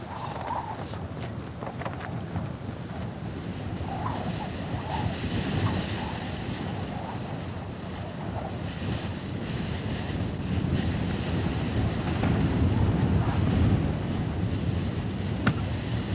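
Strong Antarctic wind roars and buffets the microphone continuously, a dense rushing blast that swells slightly toward the end, with no voices heard.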